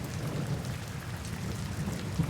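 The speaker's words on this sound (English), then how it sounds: ""It's a storm."" A heavy thunderstorm, with steady rain hissing over a deep continuous rumble of thunder, sustained and fairly loud, with no voices.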